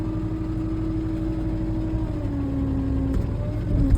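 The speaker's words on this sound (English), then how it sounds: "You'll actually hear the hydraulics turn on" A dump trailer's hydraulic pump kicks on while the tow vehicle's engine runs at a steady, raised idle, giving a continuous close hum with a faint whine that climbs slightly near the end.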